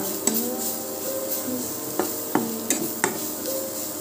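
A spoon knocks and scrapes against a pan while fried prawn masala with coriander is stirred. Several distinct clinks stand out over a light, steady sizzle.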